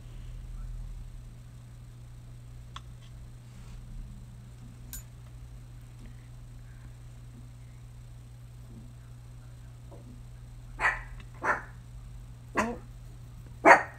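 A dog indoors barks at a UPS delivery: four sharp, loud barks come in quick succession near the end, after a long stretch of near silence over a steady low electrical hum.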